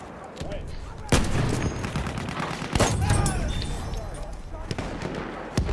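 Machine gun fire in the video game Battlefield 1 crackles as dense bursts of shots and sharp reports, with louder cracks standing out, mixed with other battle noise and voices talking over it.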